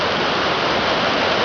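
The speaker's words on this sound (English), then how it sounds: "you can see the water is gushing down from all that rain we had" The Jordan River gushes hard after heavy rain, a dense, loud, continuous rush of fast-flowing water heard close up with no other sounds.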